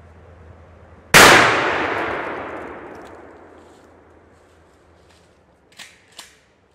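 A single loud shotgun slug blast strikes a bullet-resistant plate, a sharp metallic crack with a long ringing decay, followed by two faint distant clinks.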